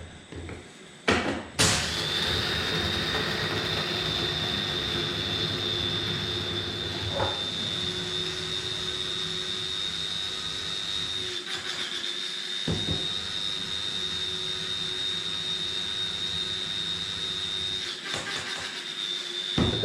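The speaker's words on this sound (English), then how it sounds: "So in order to get coffee nice and finely ground in a blade grinder like this, I have to grind it for longer" A blade grinder whirs steadily as it grinds frozen coffee beans, a continuous high motor whine held close and loud for many seconds, with a few brief knocks and rattles along the way.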